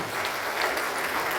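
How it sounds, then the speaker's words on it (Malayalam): A hall crowd bursts into steady, loud applause to welcome a bishop at the KCBC anti-liquor committee's state conference in the Lourdes Forane Church hall in Kottayam. The dense clapping runs unbroken throughout. "നമുക്ക് നല്ലൊരു കൈയടി കൊടുത്ത് പിതാവിനെ സ്വീകരിക്കാം"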